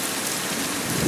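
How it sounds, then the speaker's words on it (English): Heavy rain from Hurricane Irma pours down onto Jefferson Street as a dense, loud, continuous roar of splashing drops, with no voices. "the rains are coming down the street"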